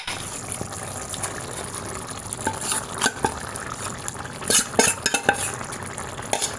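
Cooked dal is stirred into fried tomato and onion, making a wet, bubbling sizzle with sloshing and repeated ladle clinks on the pot, growing busier toward the end.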